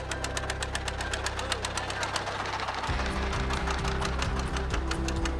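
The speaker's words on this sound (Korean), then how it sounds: "경운기 엔진을 단 그야말로 통통 뺍니다." Small wooden-style fishing boat on the Indian Ocean, driven by a single-cylinder cultivator tractor engine, chugs with a steady rapid knocking putter, loud and close, its pitch and rhythm shifting midway as the engine load changes.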